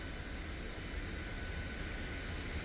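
A Lockheed T-33 jet in a flight simulator game (MSFS) with power increasing: a steady, broad engine roar with a low rumble and airy hiss, even and continuous, with no talking.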